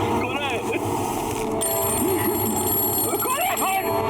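A telephone rings in a haunted bungalow, with a steady electronic ringing that continues throughout. People talk over it.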